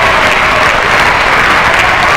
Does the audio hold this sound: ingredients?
no